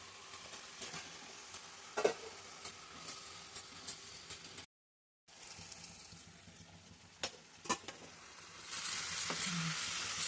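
Drumstick pieces cook in oil in a pan with a soft, continuous sizzle, broken by scattered clicks and scrapes of stirring and a brief gap of silence midway.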